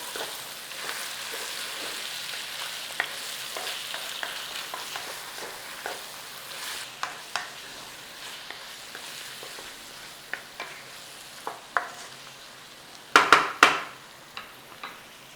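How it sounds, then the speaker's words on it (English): Frozen vegetables are stirred into mince frying with tomato paste and onion in a pan, a steady close sizzle punctuated by scraping spoon strokes and a few sharp clatters toward the end. "In there with your frozen veg. Nice little stir through."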